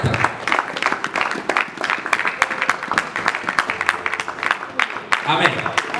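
A church congregation applauds during a French-language sermon, with rapid scattered clapping from a fairly close group mixed with voices calling out throughout.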